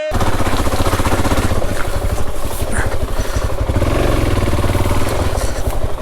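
Enduro motorcycle engine on a trail, a loud close rapid thumping beat that throbs and revs unevenly throughout, with a rider talking briefly over it.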